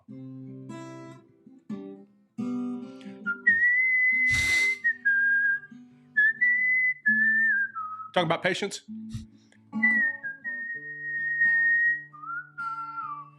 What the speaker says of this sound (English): That was a good little whistle.